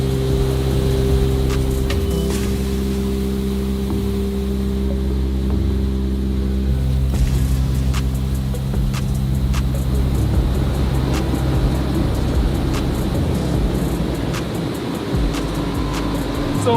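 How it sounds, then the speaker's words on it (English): A Thai rice processing machine separating paddy rice from brown rice runs with a loud, steady motor drone and rumble, with occasional clicks and rattling of grain, close and constant, with no talk. "So this machine, they will separate the paddy rice from the brown rice."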